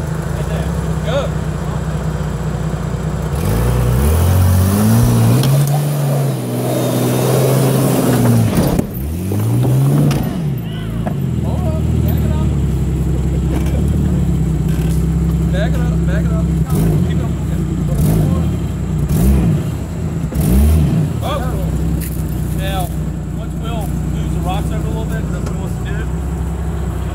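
A 4WD vehicle's engine revs and labours as it climbs an obstacle on a quarry trail, loud and close with rising and falling pitch, while a spotter talks over it.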